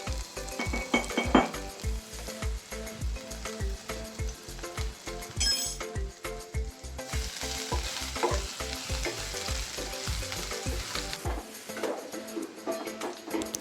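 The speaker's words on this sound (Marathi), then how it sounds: "जिरे मोहरीची फोडणी न देता मी डायरेक्ट लसणाची फोडणी देत आहे" Steady crackling sizzle of garlic frying in hot oil, with a regular rhythmic clatter of a spoon stirring in the pan, close and loud.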